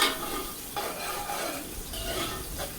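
Chopped onions frying in hot oil for beef pulao over a medium flame while a spoon stirs them. The steady crackle is close and continuous, with scraping strokes against the pan and no talking.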